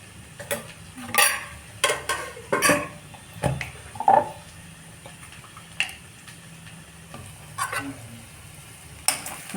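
A spoon scraping and clanking in a pan as ginger paste, turmeric and spices are stirred into frying okra, with irregular metallic knocks and scrapes spread across the stretch, close and moderately loud.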